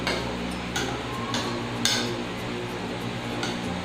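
Spoon scraping and clinking against a bowl or pan while mixing ready-to-eat instant chao fan fried rice, with a few sharper clinks among steady close stirring and no talk.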